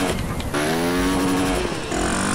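Motorcycle engine from an XRE bike in the GTA video game, a steady loud droning hum with shifting pitch as the throttle changes, continuous through the whole moment with no talking.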